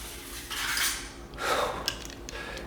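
A sword slides into its sheath in two long metallic scraping strokes, the second louder, with a small clink near the end, close and alone.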